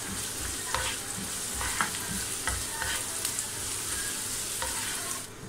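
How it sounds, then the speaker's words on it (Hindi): Chopped onion frying in desi ghee in a pan, a steady sizzle running throughout with repeated soft scraping strokes of stirring, close and fairly loud, with no talking. "इसमें मैं ये चॉप प्याज डाल दूँगी और इसे मैं फ्राई करूँ, हल्का सा ट्रांसपेरेंट करना है"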